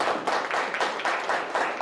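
A ceremony audience applauds in steady, dense clapping that swells in repeated waves throughout, moderately loud and without talk.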